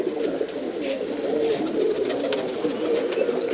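Pigeons in a loft coo steadily, overlapping low throaty calls that run the whole time at moderate, close range with no one speaking.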